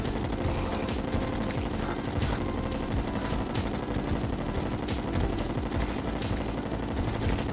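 Rapid, continuous gunfire from a ranger's weapon in a video game, a dense barrage of loud shots with no pause, layered over a steady rumbling game backdrop.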